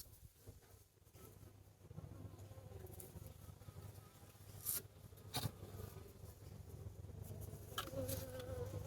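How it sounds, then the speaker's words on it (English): Bees buzz steadily around a beehive set beside raised vegetable beds in an Australian garden, a continuous low drone with a few individual insects flying close past now and then. "this is our new beehive. It's right next to the raised veggie patch area"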